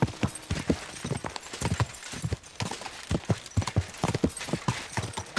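Horse hooves clip-clopping in the video game Kingdom Come Deliverance 2, a steady rhythmic trot of sharp close hoof strikes continuing for several seconds.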